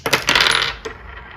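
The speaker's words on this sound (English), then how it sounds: "I'm going to roll the Astro Dice and see what overall message we have from the stars" Astrology dice are rolled for a tarot-style reading, making a sharp, close clatter that rattles for about half a second, then one last small tap before it settles into quiet, with no voices.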